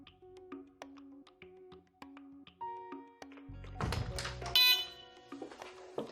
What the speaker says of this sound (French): Les bips que vous entendez sont ceux de mise en garde sur une détection retardée.